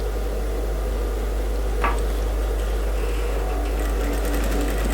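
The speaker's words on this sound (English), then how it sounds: "Then you run a temporal stitch holding the lining and the fabric together." Sewing machine running a temporary stitch through lining and fabric, a steady close motor hum with a fast mechanical whir continuing throughout, plus a brief squeak partway through.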